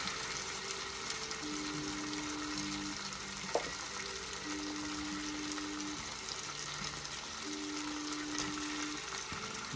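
Corned beef fries in a pan with potatoes, a steady broadband sizzle holding for the whole stretch, alone and without voices, with one sharp clack near the middle.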